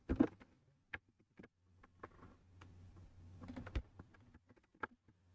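Computer keyboard keys tapped while writing ASP.NET C# code, heard as scattered quick clicks and short bursts with pauses, close and fairly quiet over a faint steady hum.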